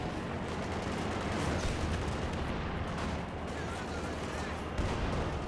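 Tank hull-mounted and coaxial machine guns fire in Company of Heroes 2, mixed with other battle gunfire and blasts as a dense, steady, distant-sounding din, with a commentator talking over it.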